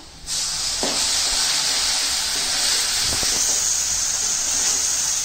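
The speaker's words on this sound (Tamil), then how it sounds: "இப்போ நம்ம வந்து அரைச்சு வச்ச வெங்காய மசாலா போட்டுடலாம்" A ground onion masala paste hits a hot pan and fries with a sudden loud, sustained hiss and sizzle, close and steady, with a few faint knocks of a spoon underneath.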